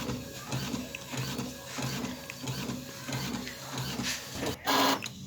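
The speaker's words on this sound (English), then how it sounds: "sorry, my printer is printing my photo." A home printer prints a passport-size photo with a steady, rhythmic mechanical whirr and shuttling, ending in a louder clunk near the finish, close by with no talking.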